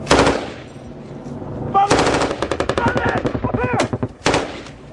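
Bursts of loud machine gun covering fire in Afghanistan during a Royal Marines firefight rattle in rapid, dense volleys, close and sustained, with shouted voices mixed in among the shots.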